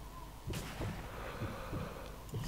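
Gunshots in the World War II sniper game Sniper Elite V2 ring out as a handful of sharp, spaced cracks, one loud near shot followed by fainter distant reports over a low ambient rumble.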